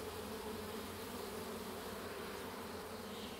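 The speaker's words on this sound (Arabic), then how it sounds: "انظروا كيف يتجمع النحل" Honey bees gathering at a traditional hive during autumn hive collection, a dense continuous buzzing hum that stays steady and close for a few seconds with no voices.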